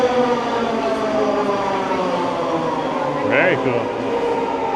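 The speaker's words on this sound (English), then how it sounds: "the SkyTrain should be coming like right now" Vancouver SkyTrain arriving downtown, a steady electric whine with rising and falling tonal bands, close and continuous, with a brief gliding tone near the end and a voice speaking briefly.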